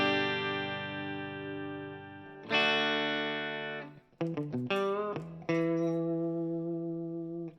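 A clean electric guitar tone runs through a Line 6 HX Stomp multi-effects pedal, with ringing sustained chords and several shorter strummed notes, bright and alone with no talking.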